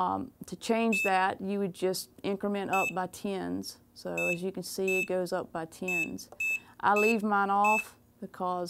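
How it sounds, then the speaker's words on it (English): A George Knight DK3 mug press control panel gives several short, high electronic beeps as its buttons are pressed. The beeps are faint and come at intervals under steady nearby talking. "And this is beep, which is the sound you're hearing every time I press something."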